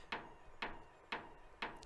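Four evenly spaced knocks of a hammer striking a door in Resident Evil 2, each a sharp, fairly close impact with a short ringing tail, heard alone with no voices.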